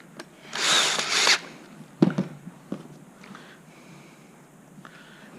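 A power driver fastens two screws on a replacement Zip battery lead. It gives one loud, steady whir of nearly a second, followed by a few faint clicks and taps of handling.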